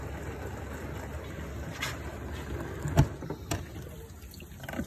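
A Nationa dishwasher sanitizing with heated water sprays and swishes steadily inside its tub, a constant watery wash with a faint motor hum and a single louder clunk partway through.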